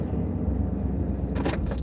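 Keys jangle in a brief bright rattle as they are grabbed inside a truck, close to the mic, with a steady engine rumble underneath.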